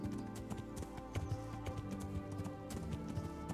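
A horse gallops in the medieval video game Kingdom Come: Deliverance, steady rapid hoofbeats clip-clopping close and clear over a soft ambient music bed with no talking.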